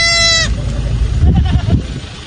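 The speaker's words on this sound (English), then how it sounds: "This is a baby goat being reunited with its goat mom." A baby goat bleats once, loud and close, with a clear harmonic cry that stops sharply, followed by a low rumbling muddle of background noise.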